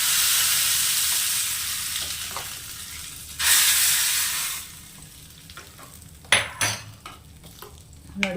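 Spices tempering in hot oil for a peanut chutney give a loud, steady sizzle and frying hiss, which swells into a fresh burst partway through, then settles with a few sharp clinks and stirring sounds near the end.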